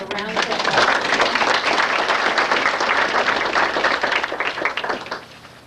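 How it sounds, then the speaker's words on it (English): An audience bursts into sustained applause, many hands clapping densely for several seconds before tapering off at the end. "So let's give a round of"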